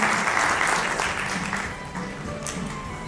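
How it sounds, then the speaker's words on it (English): Conference audience applause for a speaker at a CSR panel event, loud at first and then tapering, many hands clapping steadily in a large hall. "Ladies and gentlemen, can we have a huge round of applause for her as well?"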